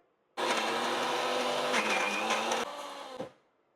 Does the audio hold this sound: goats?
no